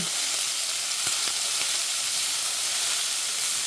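Meat sizzling in butter and olive oil in a hot pan, a close, steady hissing sizzle with a few faint crackles and no talk.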